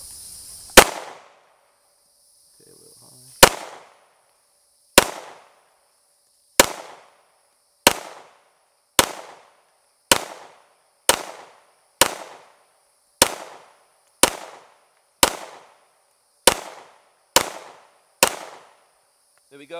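A PSA Dagger 9mm pistol fired on an outdoor range, about fifteen sharp, loud single shots at a steady pace roughly one per second, each ringing briefly, with no talk between them.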